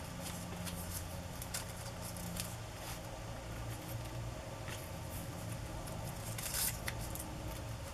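Scissors snipping a ribbon for a paper collage, a few quiet crisp cuts scattered over steady low background noise, with no talking.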